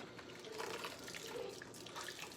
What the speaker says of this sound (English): I'll take my rag, dip it in the hot sudsy water, squeeze it out a little bit, get my glass